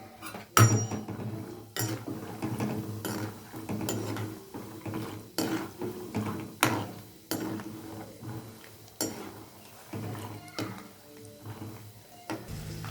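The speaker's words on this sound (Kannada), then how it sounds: "ನೋಡಿರಿ, ಹಿಂಗೆ ಚಟಾಪಟ ಅಂತವ ನೋಡ್ಕೊಂಡು ಕರೀರಿ" Peanuts are roasted in hot oil for spiced beaten-rice snack, with a ladle scraping and clinking against the pan at irregular intervals over soft crackling.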